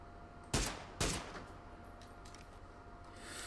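Two sharp gunshots from an enemy player in PUBG, about half a second apart and somewhat distant, followed by quieter outdoor ambience.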